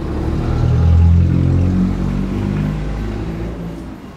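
A vehicle passes close by with a loud, low engine rumble that swells and then slowly fades, with no voices over it.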